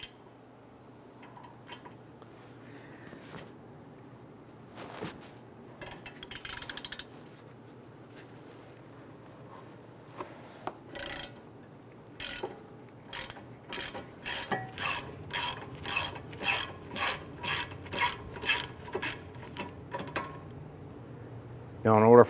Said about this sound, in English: I'm going to use our 18mm socket and go ahead,